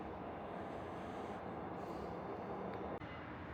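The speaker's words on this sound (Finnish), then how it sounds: "Kyllä nämä hyvin toimii tää Soulin metro." A Seoul metro train runs underground with a continuous, loud, steady rumble and roar, and a brief dip in the noise comes near the end.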